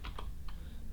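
Rapid clicks of a computer keyboard as a word is typed into a Windows Server dialog, a few quick close keystrokes in two short clusters over a steady low room hum.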